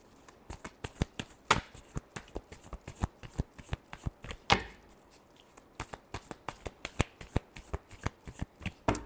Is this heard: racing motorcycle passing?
no